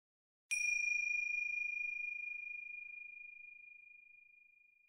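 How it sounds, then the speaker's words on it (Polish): A single bell ding marks the start of a mindfulness exercise for children. It is one clear, bright strike that rings out and fades slowly in near silence. "Zaczynamy, jak tylko usłyszysz dzwonek."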